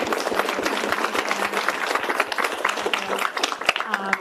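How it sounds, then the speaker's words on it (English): Conference audience at a Texas demographic event gives a round of applause, dense steady clapping throughout with a voice speaking over it near the end. "Another round of applause for our census colleagues."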